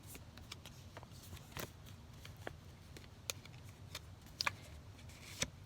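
Soft papery handling of a found card, with faint scattered rustles and small crisp ticks close by in a quiet room.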